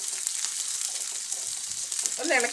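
Onion, green chili and crushed garlic fry in a pan for a jackfruit-seed thoran, a close, bright sizzle throughout with a brief burst of stirring or clatter near the end.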